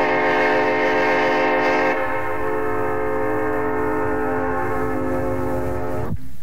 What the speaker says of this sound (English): the first diesel horn was made at the Vancouver Ironworks, and I put it on a BC Electric locomotive at the Kitsilina shops